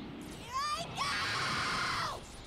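A Dragon Ball Sparking Zero fighter lets out a long, loud, strained scream while charging up, rising in pitch and holding steady for about a second and a half over background game sound.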